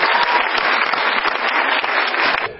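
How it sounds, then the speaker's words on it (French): Dense, sustained applause from an audience at the opening ceremony of a festival in Vernon, Normandy, loud and steady throughout before tapering at the very end. "applaudissez-le très fort"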